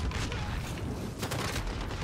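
AUG rifle firing in Call of Duty Modern Warfare, rapid bursts of close, loud automatic gunfire running nearly continuously with a short dip in the middle.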